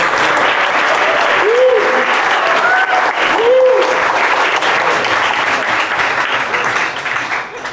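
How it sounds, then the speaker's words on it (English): Conference audience applauding steadily and loudly in a hall, a dense continuous clatter of clapping that holds for several seconds before thinning slightly at the end, with a brief voice audible underneath. "So one round of applause already for that."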